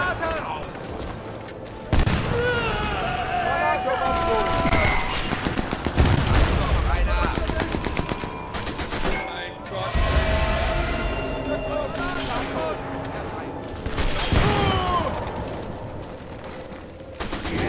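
Repeated gunshots and rifle bursts in Sniper Elite 4, loud close blasts arriving in clusters with booming impacts and mechanical clatter, while a player talks between and over the shots.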